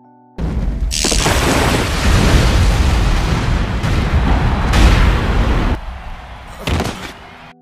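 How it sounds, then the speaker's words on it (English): An explosion set off by explosive papers in an anime fight, a loud, sustained roaring blast with heavy low rumble that starts abruptly, swells and sputters, then cuts out with a brief final burst; no voices. "The explosion badly injured Ayato"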